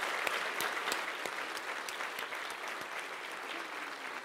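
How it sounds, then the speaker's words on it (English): Audience applause fills a room at a veterans' gala, a dense wash of steady clapping with sharp individual claps standing out, sustained at an even level throughout with no talk. "It deserves applause."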